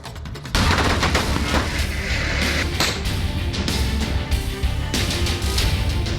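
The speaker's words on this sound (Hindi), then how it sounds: "कहीं पटाखे फोड़ दिवाली मनाई जा रही है" Firecrackers burst in dense, rapid crackling volleys as families celebrate Diwali after the Uttarkashi tunnel rescue. The loud popping runs continuously after an abrupt start, with sharper bangs standing out and no voices.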